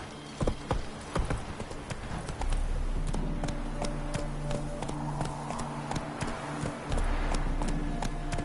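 Roach, a horse in The Witcher 3 video game, gallops with rapid rhythmic hoofbeats over a low steady rumble, loud and close throughout.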